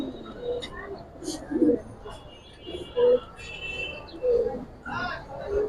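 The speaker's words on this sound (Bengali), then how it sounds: "ভাই একটা সিলভার প্যাটার্নের একটা কবুতর দিলাম" Pigeons, including a silver pattern bird, give short, throaty coos in irregular bursts, close by, mixed with people talking over them.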